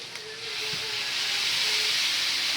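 Coconut milk (gata) poured into a hot pan of Bicol express made with santol, setting off a steady, loud steaming hiss that swells after a brief quieter start and holds throughout, with no talking.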